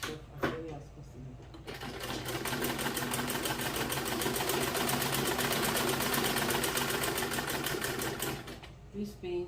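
A sewing machine stitches a skirt panel in one continuous close run of rapid, even mechanical clatter lasting several seconds, starting and stopping abruptly, with brief handling noises before and after.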